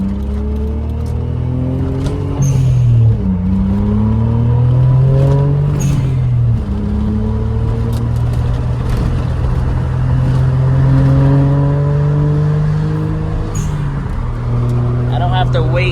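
A Suzuki Cappuccino accelerates hard through repeated gear changes, its small engine climbing in pitch again and again, loud and close from inside the car, with a person talking over it.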